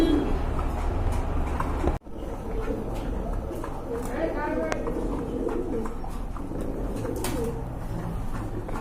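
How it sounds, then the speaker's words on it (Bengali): Soft cooing of a pair of cream-coloured pigeons close by, a few low rolling calls amid steady background noise, with people talking over it. "দেখেন কতটা কিউট এক জোড়া কবুতর"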